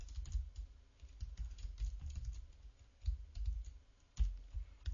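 Typing on a computer keyboard while writing web page code, with soft rapid key taps in uneven bursts, close by and quiet, no voices.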